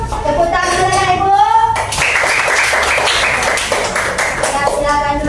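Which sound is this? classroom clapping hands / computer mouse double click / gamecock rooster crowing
classroom clapping hands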